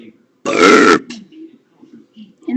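A single long, loud, deliberate burp lasting about half a second, followed by quieter throat sounds and the start of a voice.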